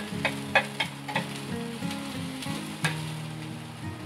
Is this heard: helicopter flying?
no